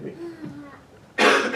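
A preacher coughs and clears his throat in a short, loud, rasping burst near the microphone, after a moment of quiet murmured breath.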